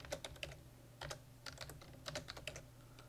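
Keys clatter on a computer keyboard in quick, uneven bursts of close, quiet clicks while a command is typed, with no talking.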